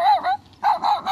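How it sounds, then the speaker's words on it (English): A dog gives two quick, close, loud barks with a slightly whiny, yipping edge, separated by a brief pause. "she has a dog"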